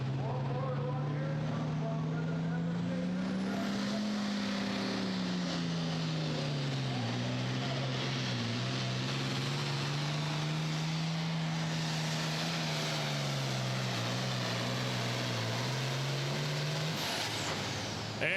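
A Farmall super farm tractor roars continuously during a tractor pull in Hillsboro, Wisconsin, its loud engine droning with rising and falling RPM for the whole stretch, an announcer talking over it.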